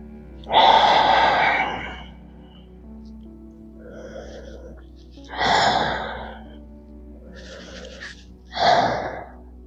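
Slow, audible breaths during a yoga session, a strong inhale near the start followed by softer exhales and further breaths later, close to the microphone with a faint steady hum beneath.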